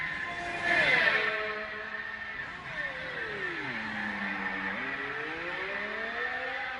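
Formula 1 car engine on the Baku street circuit in the F1 2018 video game, a high whining wail that drops under braking through tight corners and climbs again with acceleration, steady and close throughout.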